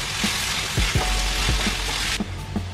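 Cauliflower and other vegetables sizzle and crackle in a hot pan for masala pav, a steady close frying hiss broken by a few soft stirring scrapes, with no one talking.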